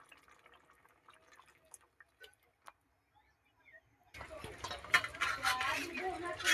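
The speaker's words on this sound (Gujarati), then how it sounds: "ને એમાં આપણે થોડુંક પાણી નાખી દેવું." Water poured into a pan of Kathiyawadi whole-onion curry with crushed peanuts, a sudden loud splashing pour starting midway after quieter faint clinks, continuing steadily to the end.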